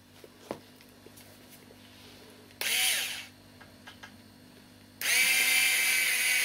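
A power drill whirs in two short bursts while reassembling an FTX Outback RC truck's axles, a high buzzing spin starting and stopping, with small clicks and handling noises in between.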